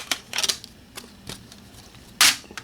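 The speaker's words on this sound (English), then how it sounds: "These plastic DVD holders" Plastic DVD holders in a disc case are handled: a scattered run of small, sharp plastic clicks and snaps, close and fairly quiet, with one louder crack near the end.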